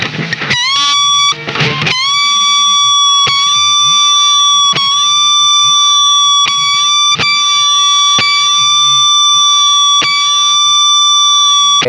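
Aliasing distortion from a digital multi-effects unit on a high-fret guitar note: a loud, steady, piercing tone with a harsh, buzzing, alarm-like edge and stray inharmonic tones that wobble beneath it, after a brief choppy start.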